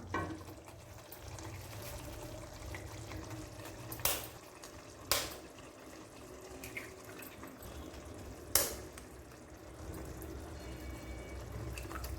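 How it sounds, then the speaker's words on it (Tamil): A pot of water at a steady rolling boil for egg bhurji gives a continuous bubbling hiss, with a few sharp clicks and splashes from eggs being cracked and poured in near the middle and end. No one speaks. "இந்த அளவுக்கு நல்லா கொதித்து வந்தோடனே இல்லை நாம் முட்டையை உடச்சி ஊற்றிடலாம்"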